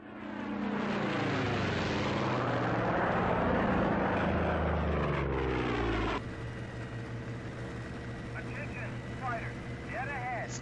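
Fighter plane in the IL-2 1946 flight game, a loud steady propeller engine drone with shifting harmonic sweeps as the throttle eases back partway through, continuous and close throughout.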